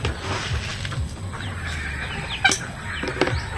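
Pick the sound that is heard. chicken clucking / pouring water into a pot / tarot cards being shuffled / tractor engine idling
chicken clucking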